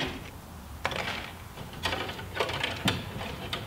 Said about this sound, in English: Cut that wire.